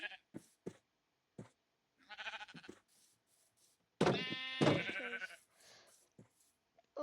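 Sheep bleat repeatedly in a video game farm, several short cries spaced out across the clip with one long, loud bleat in the middle.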